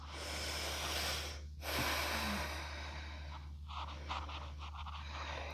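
Slow breathing held through a yoga pose on a mat, a long airy exhale, a brief catch, then softer breaths, close and fairly quiet.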